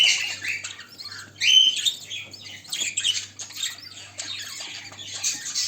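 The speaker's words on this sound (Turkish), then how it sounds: "Yavrularımız var. Şu an besliyorlar hatta." Caged bird chicks squawk and chirp in shrill, insistent bursts while their parents feed them, loud and close with no talking.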